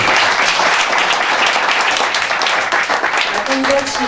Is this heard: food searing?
no